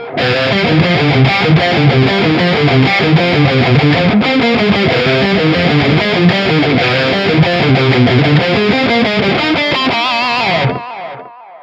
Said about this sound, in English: Let's go with a tape delay here.